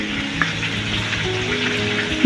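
Pieces of pointed gourd frying in oil, a continuous even sizzle with a faint low hum underneath and one small clink, no talking.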